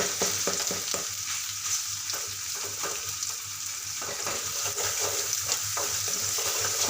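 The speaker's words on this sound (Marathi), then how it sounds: "आता मी लसणाची पेस्ट आणि ओलं खोबरं घालणार आहे त्याला छान असं मस्त परतून घेणार आहे" Garlic paste and grated coconut sautéing with black-eyed pea beans in a pan, a steady close sizzle with rhythmic stirring scrapes and no talking.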